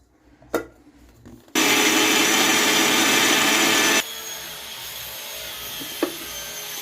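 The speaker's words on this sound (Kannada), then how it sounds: "ಅದನ್ನು ತೆಂಗಿನಕಾಯಿ ತುರಿ ಜೊತೆಗೆ ಇವಾಗ ರುಬ್ಕೋತೀನಿ." A mixer grinder grinds soaked semolina with grated coconut. A few knocks come first, then a loud continuous whirring roar runs for about two and a half seconds and cuts off, followed by a quieter hum and one more knock.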